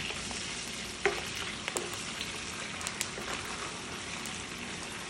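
A spoonful of garlic ginger paste fries in hot oil with a steady, faint crackling sizzle and a few soft stirring taps, no voices present.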